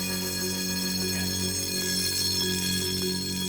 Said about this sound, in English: well, the alarm works